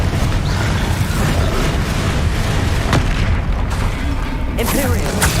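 Confringo spell exploding in Hogwarts Legacy combat, a sharp fiery boom near the start followed by rumbling impacts and crackling game effects, with a short burst near the end amid busy battle noise.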